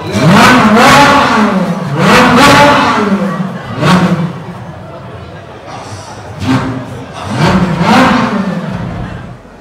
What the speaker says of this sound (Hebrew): תן לנו לשמוע את המנוע.